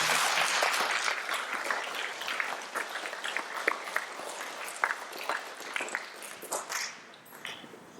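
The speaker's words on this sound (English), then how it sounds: "Can we give 4G a round of applause?" Applause for a class at a school Stage 2 presentation, a burst of crowd clapping that starts full and loosens into scattered, uneven claps before fading out.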